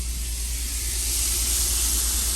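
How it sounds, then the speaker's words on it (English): Minute steak fries in a pan on an RV stove, giving off a steady, loud sizzling hiss that continues without a break. "There's my second pan of steak frying."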